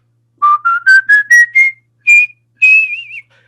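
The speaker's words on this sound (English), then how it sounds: "The type of whistling that I do is pucker whistling." A person pucker whistles a series of short clear notes stepping upward in pitch, then a pause and two longer tones, the last ending in a wavering trill, loud and close with silence between.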